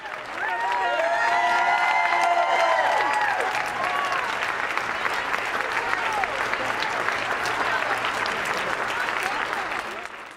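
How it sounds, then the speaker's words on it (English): An enthusiastic crowd at an airport terminal in Washington, D.C. applauds and cheers arriving veterans, with dense, loud clapping and shouting voices that hold for about ten seconds before easing slightly at the end. "the vets were greeted with an enthusiastic and boisterous crowd of admirers"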